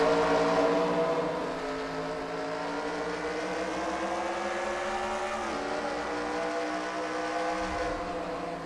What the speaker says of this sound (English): Green flag is up. We are underway for heat race number 2 for the modifieds.